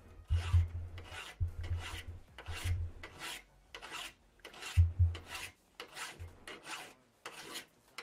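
Repeated rasping file strokes on wood during engraving work in the RedM game, arriving in uneven bursts of a few strokes each, close and moderately loud with short pauses between, no voices over them.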